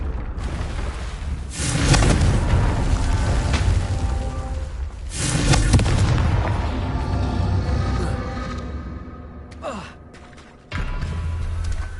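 Confringo spell blasts in the Hogwarts Legacy video game: two loud booming explosions a few seconds apart, each trailing off in a long rumbling tail, followed by a quick whooshing swipe and a sudden dip before the ambience returns.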